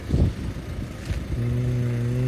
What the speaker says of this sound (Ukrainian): мотор працює чисто